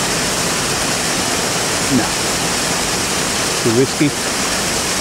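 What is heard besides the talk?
water falling outdoors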